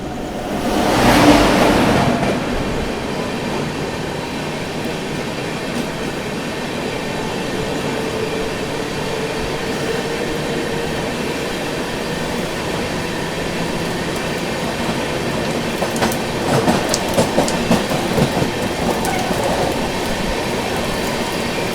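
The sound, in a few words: Gorakhpur Panvel Express train passing the Tamil Nadu Express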